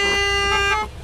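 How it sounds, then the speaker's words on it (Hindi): A car horn blares in Gas Station Simulator, one loud sustained honk lasting nearly a second before cutting off, close and alone. "अरे अरे हॉर्न पे हॉर्न ना मारते जा रहा है।"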